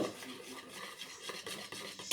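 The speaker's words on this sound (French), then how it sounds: "Et ensuite, vous remuez tout ça." Cake batter with baking powder being stirred in a bowl makes a soft continuous scraping and swishing with faint clinks, quiet and close, with no talking.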